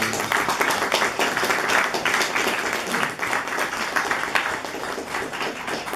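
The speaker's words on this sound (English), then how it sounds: "you should give yourselves a round of applause." Applause from a gallery audience at a tenth-birthday speech event, moderately loud and continuous with irregular individual claps standing out, heard on its own with no talk.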